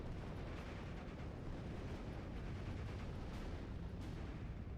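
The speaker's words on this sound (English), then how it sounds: "Let's see if we can also do another bombing run here" Continuous rumbling explosions from a bombing run in the WWII strategy game Steel Division, a dense, steady roar of blasts with scattered sharper bursts throughout, no speech.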